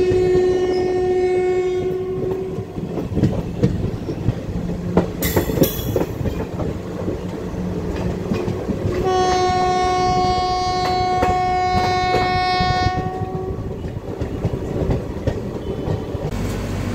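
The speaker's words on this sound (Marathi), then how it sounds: "आणि आपली ट्रेन निघालेली आहे." A passenger train departs SMVT Bengaluru terminal, sounding two long loud horn blasts over a continuous rolling rumble and clatter of wheels on rails.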